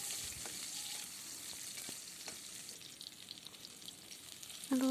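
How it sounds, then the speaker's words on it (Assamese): Green chilies and onion frying in mustard oil, a faint, steady sizzle with a few soft stirring clicks and a brief sharp clink at the end. "আৰু ইয়াতে জলকীয়া আৰু পিঁয়াজ দি ভালদৰে ভাজি ল'ম।"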